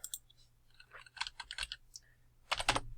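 Keys clacking on a computer keyboard in short bursts, a sparse patter of single strokes followed by a denser, louder flurry of typing near the end, heard close over a low steady hum.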